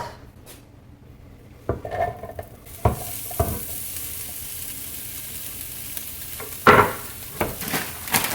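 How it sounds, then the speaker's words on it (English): Olive oil sprayed into a frying pan on high heat, a hissing spray burst followed by a sustained sizzle, with clanks of pan and utensils ringing out near the start and the end. "I'm going to spray the pan just so nothing sticks"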